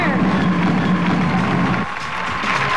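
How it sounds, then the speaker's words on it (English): A studio audience at a televised quiz grand final applauds a contestant with a dense, loud wash of clapping and crowd noise that dips slightly partway through. "Big round of applause for Mark"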